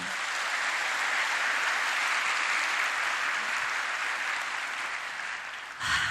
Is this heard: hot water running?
no